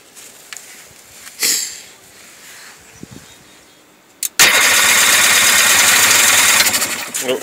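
A Sea-Doo engine fitted with a 3D carburetor cranks, coughs briefly, then catches and roars into a loud, steady run close by after a few quieter clunks.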